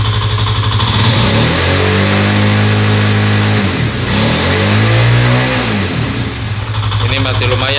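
A fuel-injected engine on a rural workshop's ECU diagnostic check revs repeatedly as the throttle is opened, rising and falling loudly and close, with someone talking over it.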